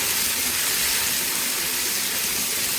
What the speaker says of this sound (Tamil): நல்லா தக்காளி கரையில் அளவுக்கு வதக்கிக்கணும் நல்லா வதங்கட்டும்